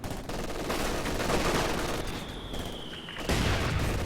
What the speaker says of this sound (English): Here comes some incendiary artillery